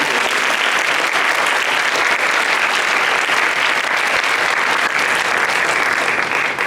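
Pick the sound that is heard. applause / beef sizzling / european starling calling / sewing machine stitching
applause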